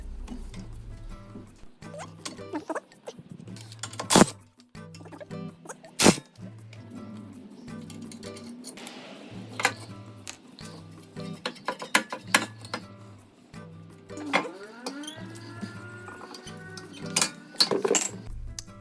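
Brake caliper being unbolted from a BMW E46 M3 during a big brake kit install: scattered metallic clicks, knocks and tool clatter, irregular and close, over a low steady hum.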